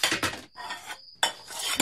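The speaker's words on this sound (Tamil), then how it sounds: "இந்த நேரத்துல ஏன் பாத்திரம் சத்தம் கேக்குது?" Metal kitchen vessels and cutlery clatter in two bursts at night during a power cut, close and fairly loud, separated by a brief pause with a thin ringing tone.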